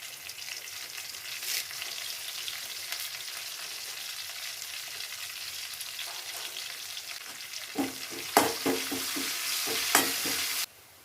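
Ginger, garlic and curry leaves sauté in hot oil in a pan for a hog plum (ambazhanga) pickle. A steady close sizzle runs throughout, and scraping stirs and louder crackles come near the end. No one speaks.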